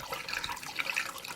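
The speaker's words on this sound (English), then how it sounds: "top up on the old screen wash." Screen wash fluid glugs and splashes steadily into a car's washer reservoir during a service on a 1990s car, a close, continuous liquid pour with no talking.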